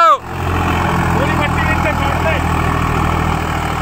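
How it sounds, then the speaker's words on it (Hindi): A Swaraj 744 XT tractor engine runs a Shaktiman rotavator at about 2000 rpm, giving a loud, continuous, steady drone with voices faintly underneath. "शक्तिमान के रोटावेटर पे देखेंगे पूरे 2000 आरपीएम पकड़ के चला गया है भाइयों"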